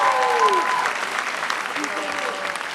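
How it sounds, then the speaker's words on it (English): Audience applause at a high school senior awards night for an award recipient, a steady dense wash of clapping filling the room throughout, with faint voices mixed in. "Please give a round of applause to Adam Halfstead."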